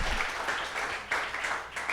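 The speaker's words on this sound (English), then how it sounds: "Applause for that question." An audience at a panel applauds a question from the floor. The crowd claps in a full, even wash for about two seconds, with a slight swell near the end and no talking on top.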